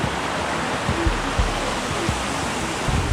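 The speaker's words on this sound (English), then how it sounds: "And the waterfall slide." Waterfall pouring into clear pools in China, a steady broadband rush of falling water with occasional low splashes and thumps, loud and close throughout.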